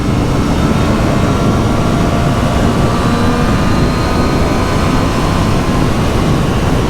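2024 Triumph Street Triple R motorcycle engine roaring continuously at speed, a loud, dense drone mixed with rushing wind noise throughout, no voices.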